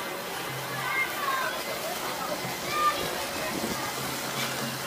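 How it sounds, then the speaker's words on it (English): Water pours steadily onto a walkway at Blizzard Beach water park, a continuous splashing and trickling that runs beneath someone talking, with faint distant voices of people around. "And you can see there's water pouring"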